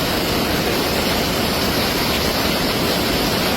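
A loud, unbroken roar of rushing flash-flood water in a rising river at Kuruthichal, Mannarkkad, broad and steady throughout, like a powerful torrent close by.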